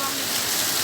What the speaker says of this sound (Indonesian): Inilah suasana Banda Aceh lagi diguyur hujan.